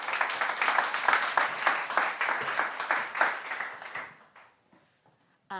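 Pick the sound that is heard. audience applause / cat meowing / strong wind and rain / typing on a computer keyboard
audience applause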